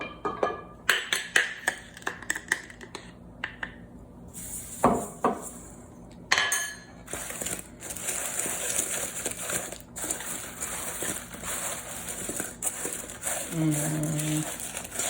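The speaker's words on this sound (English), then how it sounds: "I'm gonna add some sugar to the apples and toss them around." Sliced apples tossed with sugar in a bowl, giving scattered clinks and clatters of fruit and utensil against the dish, busier and denser in the second half.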